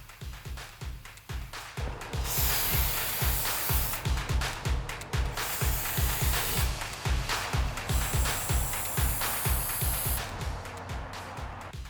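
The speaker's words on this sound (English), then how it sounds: "All you do is you take Gel Genie and you spray it on problem areas in your dumpster." Gel Genie odor treatment sprayed onto problem spots inside a dumpster, giving long hissing bursts separated by short pauses over a steady rhythmic mechanical thumping, fairly loud and continuous.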